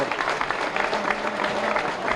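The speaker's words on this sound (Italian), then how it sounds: "che adesso riceve l'applauso" Home crowd of Akragas supporters at a football match applauding Pino Rigoli's team, a brief steady patter of clapping from a distant stand.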